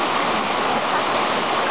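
Laurel Creek Falls, a waterfall in the Appalachian mountains, pours in a steady, dense rush of white water, close and loud with no voices.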